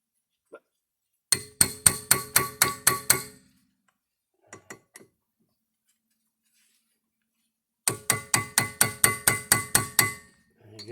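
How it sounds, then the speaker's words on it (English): A hammer taps a brake rotor on a 2014 Kia Sorento during rear brake work, bright metallic clinks in two quick runs of about eight strikes each, with a few lighter isolated taps between them. "So I just give it a little tap with the hammer"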